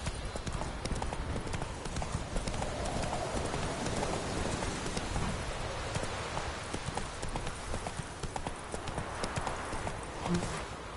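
Roach, the horse from the video game The Witcher, gallops in a steady, loud clip-clop of hooves that runs the whole time, with a hint of rain-like hiss behind it.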